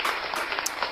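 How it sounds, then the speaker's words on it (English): A brief spatter of audience clapping, uneven and moderately loud, with no voices over it. "go clap it up for them people."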